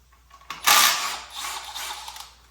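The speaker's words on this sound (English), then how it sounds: "I am going to start by taking these pins off on this side." Metal pins being removed from a 5.3 LS engine during a teardown, heard as a sharp clank followed by scraping, rattling mechanical clatter close to the mic, with no talk.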